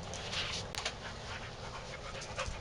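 An excited dog pants steadily nearby, with quick rhythmic breaths over low background noise and a faint whimper.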